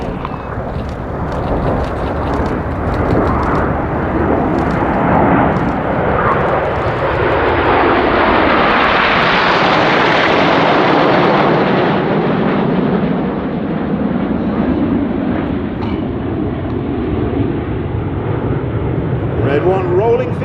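Red Arrows RAF jets fly the Phoenix pass at the Oregon International Airshow with a loud sustained jet roar that swells as the formation passes overhead and then fades slowly, alongside a commentator talking.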